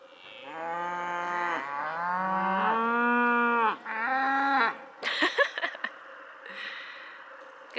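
A cow on a farm mooing loudly and close, several long drawn-out moos in a row, followed by some rustling and a few thumps.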